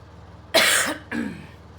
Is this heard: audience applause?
no